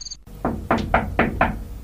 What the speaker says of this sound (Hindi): खरगोश ने कछुए की पीठ पर दस्तक दी